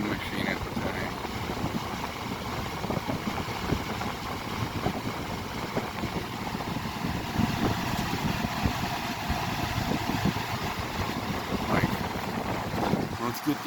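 A 2002 Lakewood WC2000 fan blowing powerfully, a steady, dense broadband whoosh of moving air with buffeting against the microphone running throughout.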